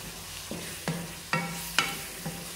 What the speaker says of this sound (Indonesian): Kita aduk terus.